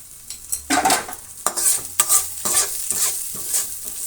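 Onions with curry leaves and salt frying in a pan for a cabbage palya, stirred with a spoon in repeated scraping strokes over a bright sizzle, close and loud with no voices.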